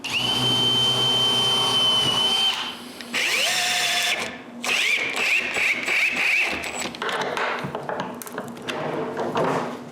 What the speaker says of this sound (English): Then I'm finally able to screw the casters in place.